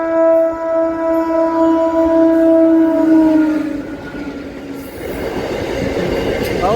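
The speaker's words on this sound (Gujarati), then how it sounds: "બિના ટ્રેન આવી ગઈ ને" A train arrives and passes close by, its loud sustained brake squeal fading into rumbling wheels and rattling wagons.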